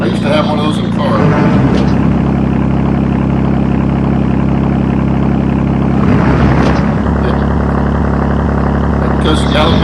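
Loud, rumbling gasoline engine of a Galloping Goose rail motorcar running steadily close by, with a deep, constant drone, brief surges and voices talking over it.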